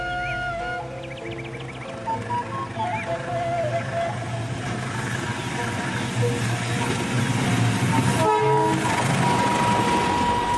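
Trains passing through a busy railway tunnel in Indonesia, a loud rumbling roll of railcars with a blaring horn and brief whistle tones early on, the rumble building steadily and echoing throughout.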